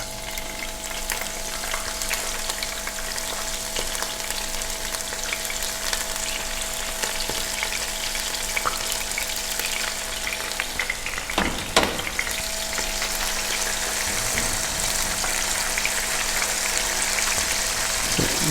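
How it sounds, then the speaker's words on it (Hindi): Onions browning in hot oil in a frying pan for a dhaba-style red lentil dal, a steady close sizzle and crackle running throughout with a brief clatter of stirring near the middle. "सबसे पहले हम इसमें डालते हैं प्याज को हम ब्राउन करेंगे"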